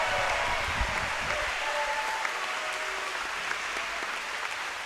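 Steady, dense clapping from a crowd in a school gym at a Wes-Del volleyball event, holding at an even level for about five seconds with no voices standing out.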